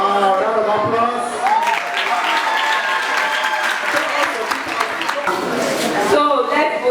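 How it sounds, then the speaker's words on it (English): Secondary school students at a quiz session give a loud round of applause, with excited voices and cheering mixed into the clapping as it rolls on without a break. "Wow, round of applause."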